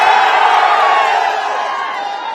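Large crowd at a political public rally in Kaushambi, a loud, dense roar of many voices with scattered cheering and shouts, sustained at close range and fading slightly over about two seconds.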